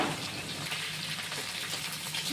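Potatoes frying in a pan for a Bengali dish of ridge gourd, potato and drumsticks with poppy seed, giving a steady, close crackling sizzle that holds evenly with no talk.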